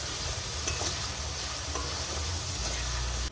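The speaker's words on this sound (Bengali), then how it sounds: "এবার সমস্ত মশলা ভালো করে কষিয়ে নিতে হবে" Spices and tomato paste are stir-fried in a pan for a Bengali pomfret curry, a loud continuous sizzle and hiss with stirring scrapes, close up, ending in a sudden cut with no talking.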